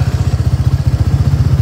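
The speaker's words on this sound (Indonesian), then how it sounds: "Nah ini suara mesinnya brother." Single-cylinder 250 cc engine of a Suzuki Gixxer SF 250 motorcycle running close by, a loud, steady low thumping pulse with even rapid beats and no voices.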